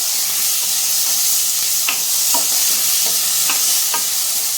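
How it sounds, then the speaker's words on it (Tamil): Medium-sized tomatoes sautéing in a pan for a sambar, with a steady close sizzle and a few soft stirring scrapes scattered through it, no voices. "தக்காளி நல்லா வதங்கிக்கணும்"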